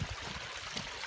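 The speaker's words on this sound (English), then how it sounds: "there's a little culvert here where the creek is running under" A small creek running through a culvert beside a two-track trail, heard as a steady, close rushing and trickling wash of water with no break.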